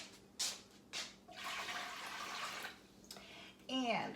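Water poured into the bottom of a Presto pressure canner during home canning of vegetable stock, a broad splashing rush lasting a couple of seconds between short clunks, close by, with a ringing tone near the end.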